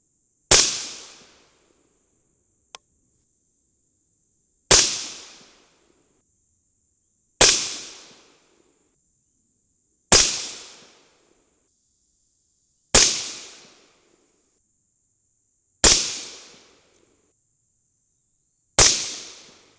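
Seven sharp .223 rifle shots with heavy-crimp rounds crack out at regular intervals several seconds apart, each a loud close report that decays quickly into silence, with one faint small click between the first two.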